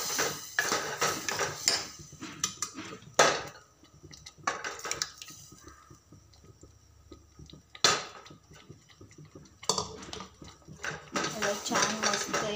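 Cooked dal and spinach being stirred in a pot, scattered scraping and clinking of a spoon against metal in irregular bursts, mixed with faint background noise.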